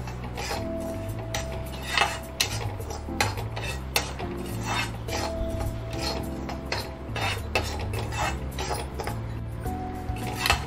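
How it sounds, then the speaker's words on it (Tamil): Semolina dry-roasted on low heat in a pan for rava laddu, stirred with a spoon that scrapes and clinks against the metal in a steady repeating rhythm, close and fairly quiet, over a low background hum. "ஒரு 10 நிமிஷத்துக்கு ரவையை நீங்கள் நல்லா வறுத்து எடுத்துக்கோங்க"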